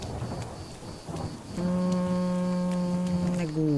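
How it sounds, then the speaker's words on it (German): In the video game Garden Witch Life, rain falls in a steady hiss while thunder rolls, followed by a long sustained low tone that holds for a couple of seconds near the end. "Aber so schön, dass es zumindest jetzt regnet."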